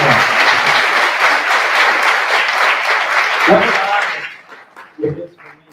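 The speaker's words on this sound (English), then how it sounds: "Can we give those three individuals a big round of applause?" Dense, loud crowd applause at a school launch event honoring three individuals, sustained for about four seconds before fading out, with a brief voice and some laughter near the end.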